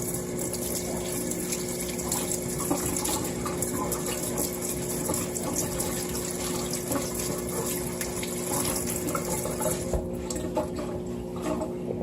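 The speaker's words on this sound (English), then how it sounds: "And then I'm going to give it a rinse off." Running water rinses something under a tap, a steady, close, continuous rush of water lasting throughout with a slight change near the end.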